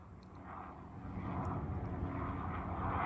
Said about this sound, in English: This is a drone.